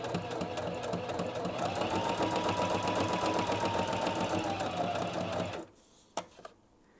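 A Viking Onyx 25 sewing machine runs steadily for several seconds in a close, loud, continuous whirring hum with rapid needle ticking, then stops, followed by a couple of small clicks.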